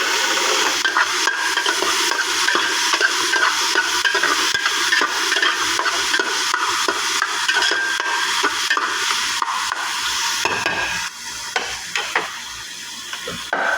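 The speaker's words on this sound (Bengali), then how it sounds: "এই দেখছেন টমেটোটা দিয়ে দিলাম" Tomatoes sizzle and fry in a hot pan, stirred with a spatula that scrapes in an irregular rhythm; the steady close frying hiss dips briefly near the end, with no talking.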